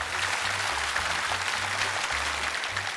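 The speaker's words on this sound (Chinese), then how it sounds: "掌声欢迎。" A studio audience at a televised Chinese lecture show claps steadily for an arriving guest, dense even applause sustained throughout with a faint low hum underneath.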